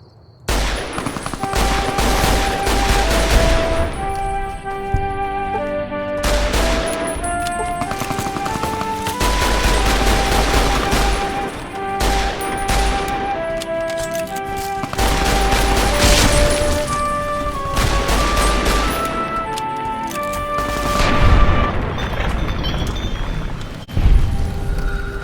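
Repeated heavy shots from a 12.7mm Survivalist Rifle, an American service rifle in Fallout: New Vegas, fired during a camp fight, with sharp reports spaced across the stretch over steady background game music.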